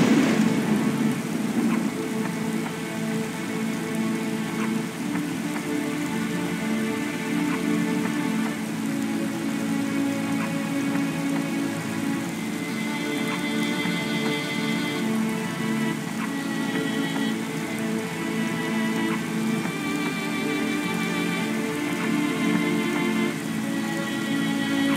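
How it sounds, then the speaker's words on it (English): Steady rain falls in the drama game I Remember The Rain, a dense constant patter on surfaces lasting throughout, with faint distant rumbles underneath. "I remember the rain."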